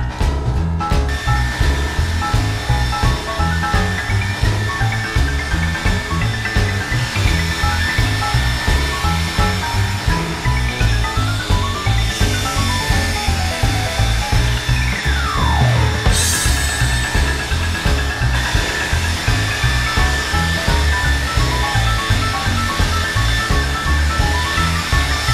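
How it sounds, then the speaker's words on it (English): A leaf blower runs steadily at close range, giving a loud, continuous whooshing roar with a pulsing engine beat as leaves are blown around. "And you know, you start blowing leaves around,"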